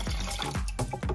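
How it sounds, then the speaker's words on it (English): Water splashing and gurgling as it is poured into a coffee maker during cleaning, a short continuous liquid rush with small pulses, close and clear with no talking. "and I'm gonna pour some more water."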